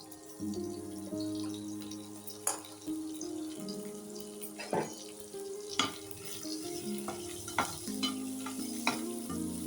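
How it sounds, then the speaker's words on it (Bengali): Paneer pieces coated in turmeric, salt and cornflour sizzle steadily in a frying pan, up close, with intermittent scraping and clinking of a spatula as they are turned. "এখন আমি পনিরটা ভেজে নিই।"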